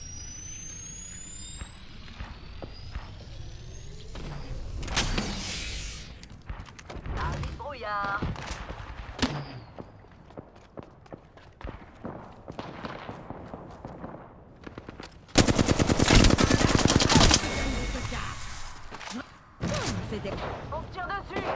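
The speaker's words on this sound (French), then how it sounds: "On se tire dessus." Bursts of gunfire ring out during an Apex Legends shootout, sharp rapid volleys and single shots with loud clusters near the middle and end. A player talks over much of the action.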